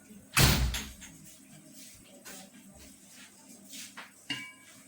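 A door is pulled shut in a home kitchen during börek preparation, landing as one loud, close thud near the start, followed by quiet room noise and a softer knock later.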